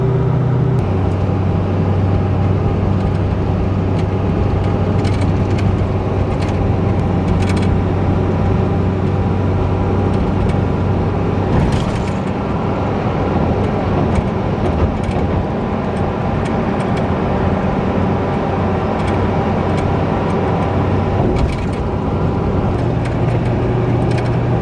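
A car idles and creeps along in a traffic jam in Duluth, Minnesota, a steady low engine hum and cabin drone from inside, with faint soft clicks and shifts, continuous for about twenty-five seconds with no talking.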